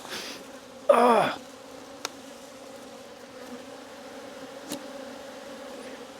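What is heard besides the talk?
agitated bees buzzing from opened hive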